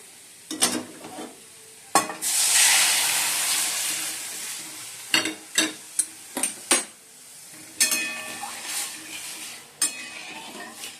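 A sudden loud sizzle bursts up as lentils hit hot oil tempered with onion and dried chillies, then fades into sharp clinks and scrapes of a spoon stirring in the pan.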